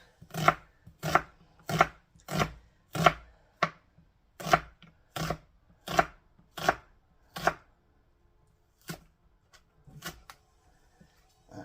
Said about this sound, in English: And then I'm going to chop it up into little pieces.